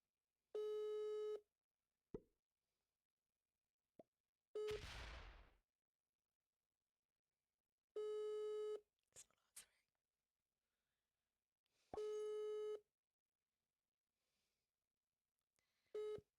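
A telephone call to Tom gives repeated steady electronic tone bursts, about three long beeps separated by silences, with brief clicks and a short rustling noise between them.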